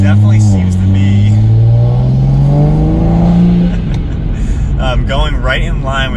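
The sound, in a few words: Toyota Supra A90 engine accelerating while driving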